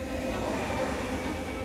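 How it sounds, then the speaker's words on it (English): A metro train runs at speed on a test track, a steady, fairly loud rushing roar of wheels and motors with no breaks. "To prove each train can easily reach more than 100 kilometres per hour."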